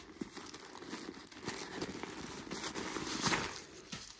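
Packaging paper crumples and crinkles continuously while a Coach orange cosmetic pouch is unboxed, close and fairly soft, with rustling rising toward the middle.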